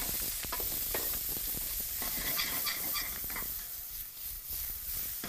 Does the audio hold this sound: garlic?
yes